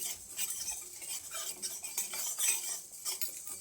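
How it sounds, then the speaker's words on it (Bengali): Whole cumin seeds and spices frying in a pan for ghugni, stirred with a metal spoon that scrapes and clinks against the pan in an uneven rhythm over a soft, continuous sizzle. "এবার গোটা জিরেটা দিয়ে আবারও সব কিছুকে ভালো করে ভেজে নিতে হবে।"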